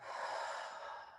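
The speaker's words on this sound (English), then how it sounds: "Let's inhale this time. Exhale." One slow breath during a floor exercise session with a rollover ball and mat, a soft, close airy exhale with no talking.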